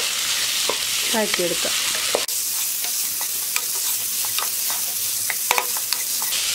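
Prawns coated in masala stir-fry in coconut oil, giving a steady loud sizzle with scraping stirs throughout and a brief voice near the start.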